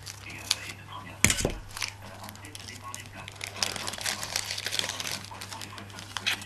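A paper mail envelope torn open by hand, with a sharp rip followed by a stretch of crinkling and rustling paper under a steady low hum and quiet talk.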